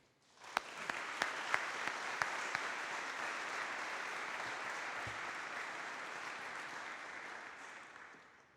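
Audience applause in a college chapel welcoming a speaker, steady dense clapping from a seated crowd that swells in quickly and holds for several seconds with a few sharp nearby claps early on, no voices over it.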